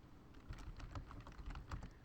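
Rapid keystrokes on a computer keyboard, a steady run of clicks and taps close by at a quiet level, with no voices.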